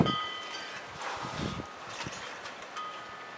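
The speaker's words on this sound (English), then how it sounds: "We still have a strong wind" Strong wind blowing outdoors where acrylic paint is being poured onto canvas, a steady soft whooshing rush with gusty swells and faint rustling, fairly quiet and with no talk.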